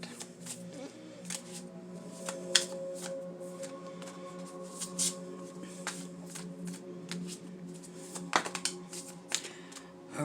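Tarot cards are shuffled close up, with a quiet, continuous riffling and slapping of cards punctuated by sharper snaps as the deck is cut and squared.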